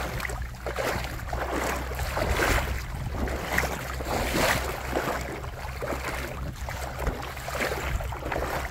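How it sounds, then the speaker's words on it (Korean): Water flows steadily through a stone garden of tiger-skin pattern stones, a continuous rushing and babbling close by with no speech. "무엇보다 물소리가 좋습니다."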